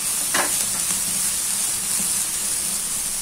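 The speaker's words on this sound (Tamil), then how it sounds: "காய் நம்ம நல்லா வதக்கியாச்சு நம்ம மசாலா சேக்கறதுக்கு முன்னாடியே நம்ம நல்லா காயை வதக்கிரணும்" Vegetables for potato cutlets sautéing in a pan, a loud continuous close sizzle with crackle and a brief scraping stir near the start, no talk.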